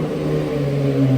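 A Porsche Carrera GT engine idles just after startup, a loud, steady mid-pitched hum with a slight rise in revs, close by and with no talking.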